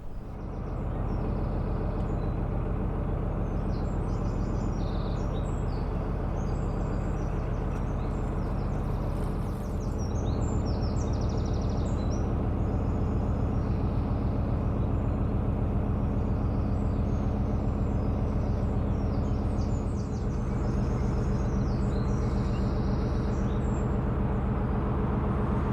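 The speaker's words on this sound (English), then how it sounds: "I really hate the sound of traffic." Continuous road traffic hums from beside a canal on the Staffordshire and Worcestershire route near Coven, a steady low rumble of cars and trucks with a faint air-brake hiss, constant and fairly near throughout, with no voices.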